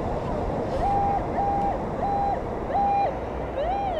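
A metal detector's signal tone: four evenly spaced electronic beeps at one steady pitch, followed by a fifth rising tone, ringing out over constant wind and water noise.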